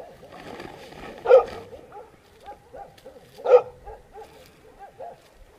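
Dogs in a nearby village keep barking at night beside a forest tent camp, a steady string of repeated barks with two louder, sharper ones standing out.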